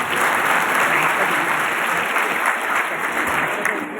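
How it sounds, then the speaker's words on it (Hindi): Sustained, loud audience applause fills a congress hall as a guest is welcomed, a dense, even wash of many hands clapping throughout with no pauses. "और एक बार तालियां देके नादिर भाई को स्वागत करना।"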